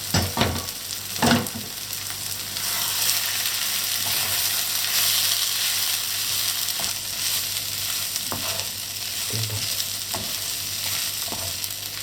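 Rice and a big spoon of paprika frying in a pan for vegetable risotto, a continuous sizzle with sharp spoon scrapes and knocks near the start and scattered later, close and fairly loud.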